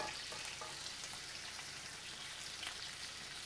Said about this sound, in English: A little butter in the pan here.